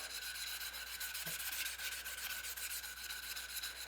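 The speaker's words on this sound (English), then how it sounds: "Sandpaper with duct tape on the back." Sandpaper strip backed with duct tape rubbing steadily on a workpiece during knife making, a faint, continuous scratchy hiss with a light repetitive rhythm, no talking.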